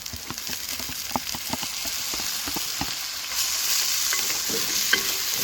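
Gongura leaves frying with onions in a pan while being stirred, with frequent sharp clicks of a utensil scraping the pan over a continuous soft sizzle that grows slightly louder toward the end.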